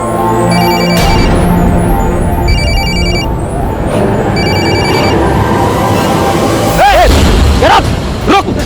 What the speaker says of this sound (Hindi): डायल कर नंबर